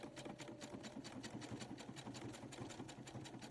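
Sewing machine stitching a decorative pattern on fabric, a fast steady mechanical whirr with rapid regular needle thumps, close and continuous with no talk.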